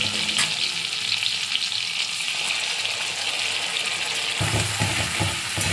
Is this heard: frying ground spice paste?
yes